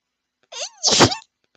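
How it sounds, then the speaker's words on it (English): A single loud sneeze bursts out alone, preceded by a short rising whine-like intake of breath, then quiet. "I have to sneeze."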